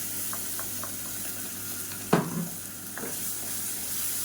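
Four medium blended tomatoes hit hot channa masala in a pan, giving a soft, continuous sizzle with scattered spoon scrapes and one sharper clatter partway through.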